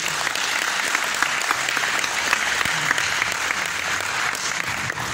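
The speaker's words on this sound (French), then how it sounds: "merci d'avoir mis un applaudissement pour le staff" Steady, loud applause from a gathered audience honouring the organizing staff at an event in Porto Alegre, Brazil, with sustained dense clapping throughout and no break.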